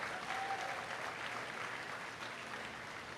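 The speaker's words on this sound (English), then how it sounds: "please give all these kids that made it out here to our final drive a big round of applause" An audience at the Ohio State Fair market goat show final drive applauds in steady, fairly faint, distant clapping that holds for a few seconds without talking.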